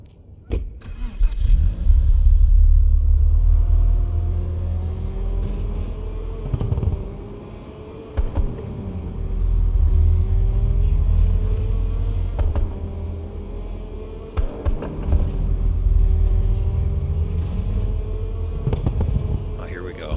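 A car races at speed through the Matrix Awakens Unreal Engine 5 demo city, its engine rumbling loud and close with rising and falling revs across gear changes, briefly easing off before surging again.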